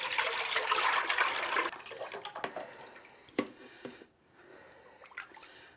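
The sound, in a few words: chicken broth being poured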